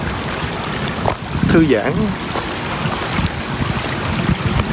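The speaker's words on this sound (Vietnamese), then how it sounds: "Ghé suối nghe nước chảy ríu ro," A creek's water rushes and burbles steadily, a continuous broadband wash that fills the whole stretch, with a voice speaking briefly over it.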